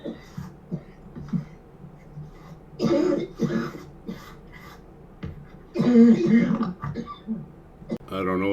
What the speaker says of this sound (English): some woman in the background coughing her butt off